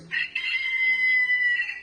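A single rooster crow rings out clearly from a watch alarm tone, a bright drawn-out cock-a-doodle-doo with a slightly electronic, reproduced tone, heard alone.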